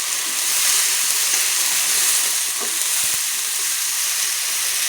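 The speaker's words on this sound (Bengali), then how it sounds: "তো এখন দিয়ে দেবো, দিয়ে সুন্দর করে আমি মশলাটা কষিয়ে নেব।" Ground onion and garlic paste frying with spices in a pan for a Bengali fish curry, heard as a dense, continuous hiss with occasional stirring knocks and no talking.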